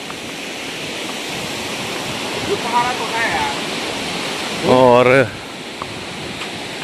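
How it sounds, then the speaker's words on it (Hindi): Kanger Dhara waterfall in Kanger Valley National Park pours over eroded rocks with a constant loud roar, while someone speaks briefly over it and a short whistle-like tone rises near the end. "तो कांगेर धारा वाटरफॉल में हम पहुंच गए हैं"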